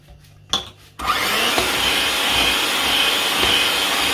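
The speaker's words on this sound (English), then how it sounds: "Give it a quick blend with my blender." A blender mixing red velvet cake batter starts with a short burst, then runs steadily at a loud, even whir for several seconds.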